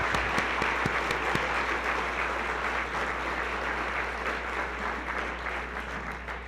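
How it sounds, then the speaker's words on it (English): An audience applauds scholarship recipients at a scholarship ceremony, a steady dense clapping from a sizable crowd that holds for several seconds and slowly eases off. "Let's give a round of applause for Group A."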